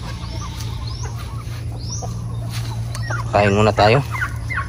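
Chickens cluck and a turkey gobbles nearby on a farm amid a steady hum, with a brief bout of loud birdcalls near the end and a short spoken phrase.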